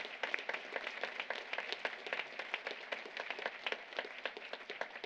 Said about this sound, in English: we want to applaud you before we start tonight